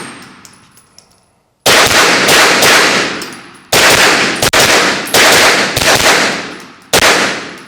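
Suppressed 9mm pistol-caliber carbine shots ring out: five loud, sharp reports with ringing metallic decay, spaced about a second apart after a quiet start with small handling clicks.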